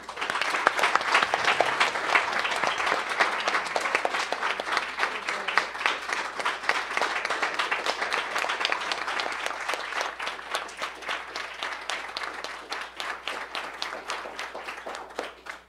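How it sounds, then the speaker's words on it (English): A closing round of audience applause at the International Women of Courage 2020 ceremony, steady dense clapping from a large crowd continuing at even strength for the whole stretch. "a final round of applause to all the Women of Courage 2020"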